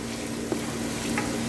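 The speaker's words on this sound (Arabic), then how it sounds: "حطيت التوابل كلها وبقلب" Spiced meat, onion and pepper sizzle in a pan while being stirred, a steady close frying hiss with a couple of soft scraping stirs and no talk.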